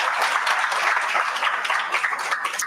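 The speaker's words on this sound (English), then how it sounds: "Let's give all the companies another round of applause." An audience at a pitch competition claps and applauds for the competing companies, a dense, even burst of clapping that carries through the whole moment without pause.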